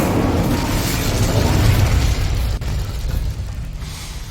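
A fiery Incendio spell cast in Hogwarts Legacy erupts as a loud whooshing, rumbling burst that stays dense for a couple of seconds and then tapers into a softer roar, with no talk.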